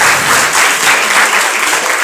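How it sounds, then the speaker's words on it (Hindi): An audience claps loudly and steadily at a student award ceremony held in Hindi, a dense applause that fills the whole moment with no talk over it. "जहाँ जरूरत हो वहाँ तालियां जोरदार बजा दिया करिए आप लोग"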